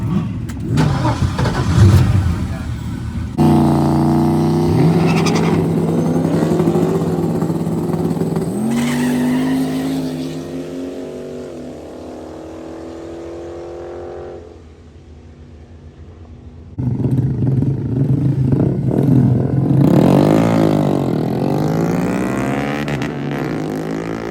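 A race car engine cranks and fires, then revs hard through rising and falling pitches, drops briefly to a rough idle, and roars up again, loud and close.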